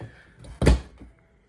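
Repaired fuel filler door on a 2017 Toyota Sienna snapping closed, one short close-up thunk followed by a faint softer tap, with no one speaking.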